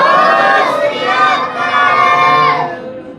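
A Sikh congregation at a gurmat samagam shouts a jaikara together in response, a loud sustained mass of voices rising and falling for a few seconds.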